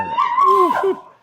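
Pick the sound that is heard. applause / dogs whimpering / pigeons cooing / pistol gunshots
dogs whimpering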